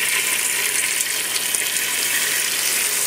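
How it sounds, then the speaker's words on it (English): Juice pours steadily over pork chops in a continuous splashing stream, close by, with no talking over it. "Always like to pour a little bit of the juice over top of them."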